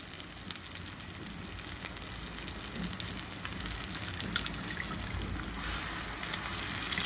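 Chicken gravy in the Andhra style simmers steadily in a pan, giving a continuous close sizzle and soft bubbling that grows a little brighter near the end, with no talking.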